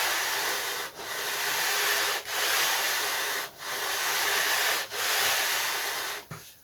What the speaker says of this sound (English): I'll sand off the end